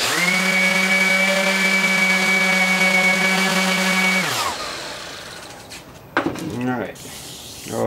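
A power sander at 320 grit on live edge wood coasters gives a loud, steady tonal motor whine for about four seconds, then stops, leaving faint handling noises and soft knocks.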